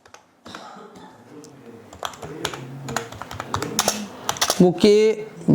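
A tag being typed on a computer keyboard while uploading a Facebook video: rapid, close clattering keystrokes in an uneven rhythm that grow busier, with a brief voice near the end.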